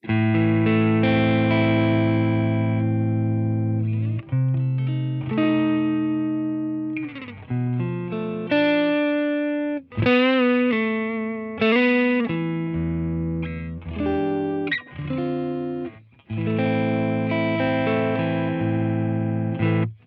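A clean electric guitar on the neck single-coil pickup through a Friedman IR-D preamp pedal at low gain, with a bright, slightly gritty tone, plays chords and short melodic runs, sustained and close, with no voices.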